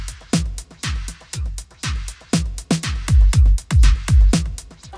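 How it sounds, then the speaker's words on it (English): A drum beat from a song plays alone, with sharp layered claps over booming kick hits in a steady, driving pattern. "So same top drum beat, but then we have the ksh, ksh, like layered in there, the claps."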